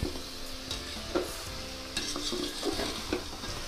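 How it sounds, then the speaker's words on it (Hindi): Spice masala with a little salt fries in a pan for chana sabji, a dense close sizzle with intermittent spoon scrapes and stirring knocks throughout. "इसमें हम नमक डाल देंगे, ज़्यादा नहीं, उसको भून लेंगे।"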